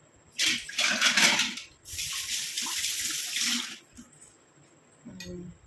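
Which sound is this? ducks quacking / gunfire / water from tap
water from tap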